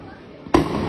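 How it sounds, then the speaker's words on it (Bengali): A single sharp, loud bang cracks out in a narrow lane, like a gunshot, with a broad rumbling noise carrying on after it amid a tense street scene. "গলির ভিতরে গুলি করতেছে গলির ভিতরে"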